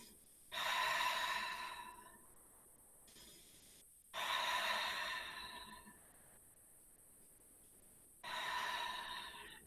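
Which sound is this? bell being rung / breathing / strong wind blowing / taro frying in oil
breathing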